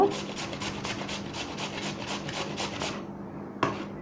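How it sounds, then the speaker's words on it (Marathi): Raw potatoes rubbed by hand over a grater for a wheat-flour potato pancake breakfast, giving a quick, steady rhythm of close rasping strokes that stops just before the end. "हे सगळे बटाटे आपण आता किसून घेणार"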